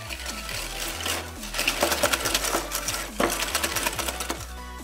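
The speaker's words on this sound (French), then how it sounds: "Nous y mettons dans un saladier nos jaunes, notre sucre" Egg yolks and sugar are whisked in a bowl for a Parisian flan, making a steady motorized whirr with a low hum and a busy rattling, clicking clatter throughout, close and fairly loud.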